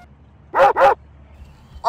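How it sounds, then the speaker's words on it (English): A little dog barks twice in quick succession, loud and close, with a brief yip at the very end. "The manager of the post office had a little dog with him."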